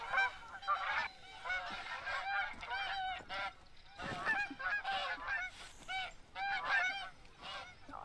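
Geese honking in TheHunter: Call of the Wild, a flock of repeated nasal calls in overlapping bursts, fairly close and clear over a quiet background.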